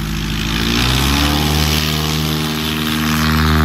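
A Carbon Cub light aircraft's engine and propeller drone loudly and steadily during a short takeoff, the pitch climbing slightly as it builds power, close by.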